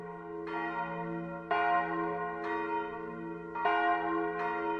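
Bells of Balangiga, historic Philippine church bells, ring in slow, resonant strokes, each struck tone blooming and decaying into a long humming sustain, about five clear peals heard alone.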